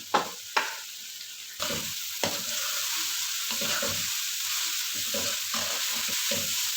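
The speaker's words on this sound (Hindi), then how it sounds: "बंद गोभी डाल के हमने इसको सिर्फ चंद सेकंड के लिए सिर्फ चलाना है, बहुत ज़्यादा नहीं पकाना" Cabbage stir-fried with capsicum in a hot pan for Chinese-style chicken vegetable macaroni: a steady, loud sizzle with a few scraping clatters of the spatula near the start, close up with no talking.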